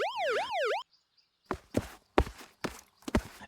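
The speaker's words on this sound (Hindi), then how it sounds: "पुलिस की गाड़ियां सायरन बजाती हुई आईं।" A wailing police siren sweeps up and down twice, then cuts off; a pause follows, then several sharp, heavy footsteps or thuds land at uneven intervals.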